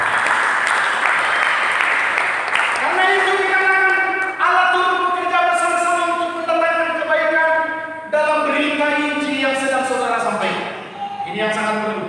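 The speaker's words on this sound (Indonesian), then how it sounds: "Berikan tepuk tangan dulu bagi Yesus." A congregation applauds during a church service, with a few seconds of dense clapping before a voice takes over and carries on speaking.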